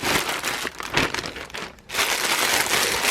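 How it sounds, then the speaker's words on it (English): Plastic packaging around a pack of puffy craft balls crinkles and crackles loudly up close, in continuous rustling bursts with a brief lull midway. "Sorry for the crinkle noise"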